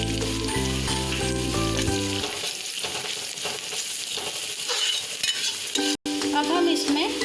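Chopped onions fry with turmeric in a pan on a home stove, a steady close sizzle with stirring scrapes, a short musical tone at the start and a brief break near the end.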